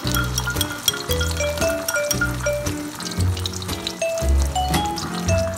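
Whisked eggs poured into warm oil in a wok for spinach and egg stir-fry, with clinking of utensil against bowl and a splashy pour over a low sizzle, fairly loud and close.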